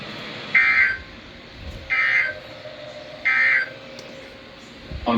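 A National Weather Service NOAA weather radio warning alarm test tone sounds in three loud, evenly spaced beeps of about a second each, separated by quieter gaps of broadcast background.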